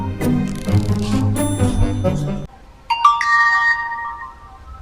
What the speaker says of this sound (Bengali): হঠাৎ করে বিকাশে যে মেসেজ এলো